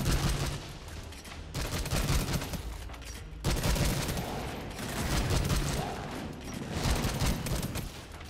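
Rapid bursts of a fire hose weapon firing in the video game SYNCED, loud and dense with stuttering gunfire-like blasts in several sustained volleys.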